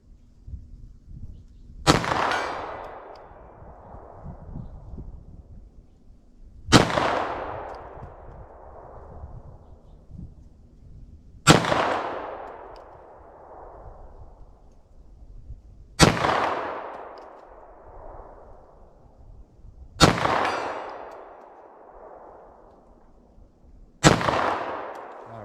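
Six loud, sharp handgun shots from a short-barrel revolver or pistol firing 9mm+P and .357 Magnum ammunition at an outdoor target, spaced roughly four to five seconds apart, each with a ringing decay and no talking.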